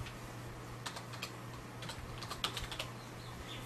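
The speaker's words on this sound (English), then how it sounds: "type in reg edit." Quiet clicking of a computer keyboard as a short command is typed, a few light keystrokes in brief clusters over a low steady hum.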